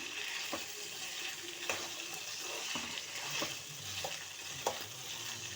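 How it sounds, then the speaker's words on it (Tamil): Chopped ivy gourd (kovakkai) frying in hot oil in a pan: steady close sizzling, with occasional clinks and scrapes of stirring and no talk. "எண்ணெயிலேயே நல்லா வதங்கி வர அளவுக்கு நம்ம வறுத்து விட்டுக்கலாம்."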